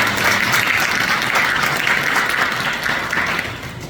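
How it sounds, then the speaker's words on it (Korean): A church congregation claps steadily in a large room, sustained applause that holds for several seconds and then begins to taper off. "우리 감사의 박수를 드리겠습니다"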